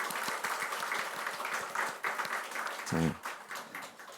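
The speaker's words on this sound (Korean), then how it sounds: "박수 한번 해봅시다." A church congregation gives a round of applause during a Korean sermon, brisk, fairly even clapping from many hands with a short vocal sound midway.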